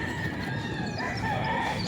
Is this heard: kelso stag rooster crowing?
yes